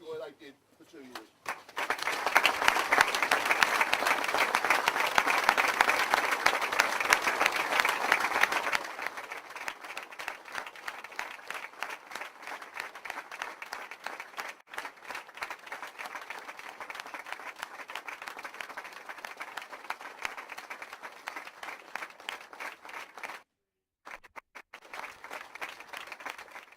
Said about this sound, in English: it's just a clap to say well done, lad, for being there